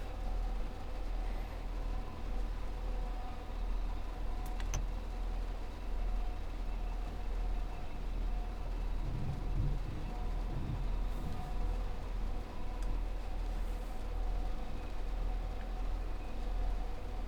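Class 170 Turbostar diesel multiple unit under throttle in the Train Sim World 4 game on the Fife Circle, a steady low engine drone with rumbling running noise throughout, moderately loud and unbroken.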